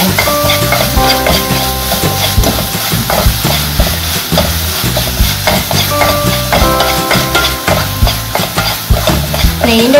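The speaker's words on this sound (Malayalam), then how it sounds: "നന്നായിട്ടൊന്ന് ചിക്കി എടുക്കണം." Egg mixture being stirred and scrambled in a hot pan with ghee, loud close sizzling with repeated scraping strokes of a utensil against the pan in a quick, uneven rhythm.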